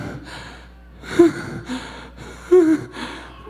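A preacher imitates the last gasping breaths of a dying man, giving a few sharp, strained gasps and wheezy inhalations spaced across the moment, close and fairly loud, with no words spoken.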